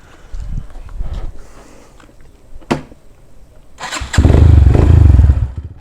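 A Road Prince Wego 150cc motorcycle is started: scuffs and knocks of handling, a sharp click, then the engine catches and idles with a loud, rumbling putter up close for the final seconds.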